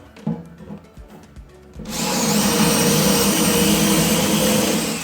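A power drill bores hinge cup holes into a wooden cabinet front, a steady loud whir starting abruptly about two seconds in after quieter knocks and handling, with no talk.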